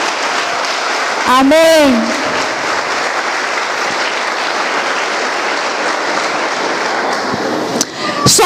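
A church congregation applauds during a sermon, sustained loud clapping filling the room while a voice speaks over it near the start and end.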